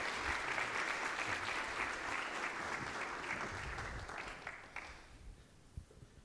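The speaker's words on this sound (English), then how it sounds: "Please, big round of applause for good friends of mine, Aaron Windle and Corey Rogers." Audience applause welcomes two guests onto the stage at a Department of Defense legacy modernization session. The clapping is dense and steady throughout, then thins toward the end into a few scattered claps.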